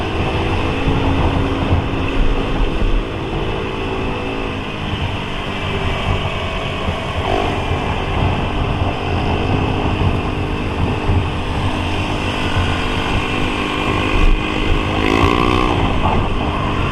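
Heavy stop-and-go traffic between Kalibata and Pasar Minggu, with a noisy motorcycle passing close by amid a steady, loud roar of engines and wind buffeting the microphone for the whole stretch.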